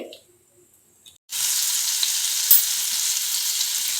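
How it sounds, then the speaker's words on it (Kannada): A slice of butter hits a hot pan for white sauce pasta. After a brief quiet moment a loud, steady sizzle starts suddenly and holds evenly close up, with a faint voice before it. "ಇವಾಗ ಒಂದು ಪ್ಯಾನ್ ಇಟ್ಕೊಂಡು 1 slice ಬಟರ್ ಹಾಕೊಳ್ಳಿ."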